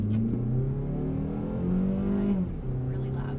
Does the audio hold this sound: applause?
no